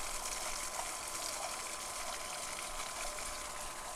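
Water gushes steadily through a swimming pool sand filter during backwash, a continuous close hissing rush with a faint mechanical rattle beneath.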